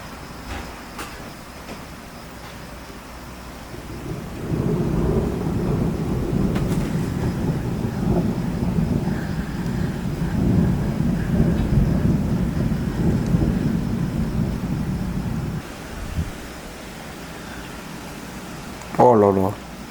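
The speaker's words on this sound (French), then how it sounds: "un orage sorti de nulle part et ça y est" A thunderstorm in Gironde, France, with a long low rolling rumble of thunder building and fading over a steady hiss of rain, and a brief voice at the end.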